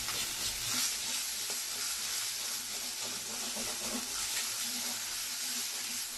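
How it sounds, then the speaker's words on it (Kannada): Mutton chops frying with pepper masala in a pan, a steady dense sizzle and hiss with faint stirring scrapes, continuous and close, no talking. "ಈಗ ಪೆಪ್ಪರ್ ಎಲ್ಲ ಚೆನ್ನಾಗಿ ಫ್ರೈ ಆಗಿದೆ. ಮಟನ್ ಚಾಪ್ಸ್ ಪೆಪ್ಪರ್ ಮಸಾಲ ಇರೋದೆಲ್ಲ ಇದರಲ್ಲೇ ಆಲ್ಮೋಸ್ಟ್ ಫ್ರೈ ಆಗಿದೆ."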